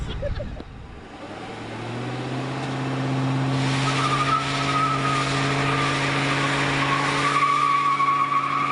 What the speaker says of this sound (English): Which car can lay down the most rubber?